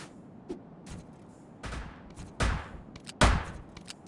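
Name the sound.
gadget gun firing twice in Yeeps video game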